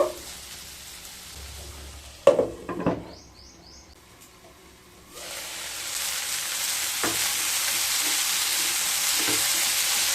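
Chopped tomato stirred into beans and potatoes frying in a pan, a spatula clatter and scrape first, then a quieter gap and a steady sizzle that swells and holds to the end, with faint bird chirps in the background.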